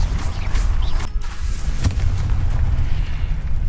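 Fire and disarming spells in a Hogwarts video game go off in rumbling, booming blasts, repeated loud bursts layered over continuous low game noise.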